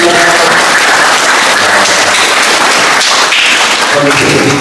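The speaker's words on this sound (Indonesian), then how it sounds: "Pertama, marilah kita ucapkan syabas dan kita berikan tepukan kepada Pak Bosku." Applause from an audience at the inauguration and blessing of St. Peter's Church in Tambunan, a dense, continuous wash of clapping that stays loud throughout, with some voices mixed in.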